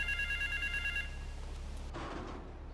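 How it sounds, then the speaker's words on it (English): A telephone rings in Grand Theft Auto III, with steady repeated electronic trills for about a second over a low background hum, then it stops and the game ambience shifts. "Get to the phone in South Belleville Park."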